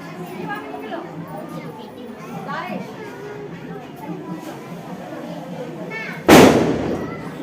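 A single loud firecracker bangs sharply near the end, ringing briefly over steady background chatter and distant crowd noise.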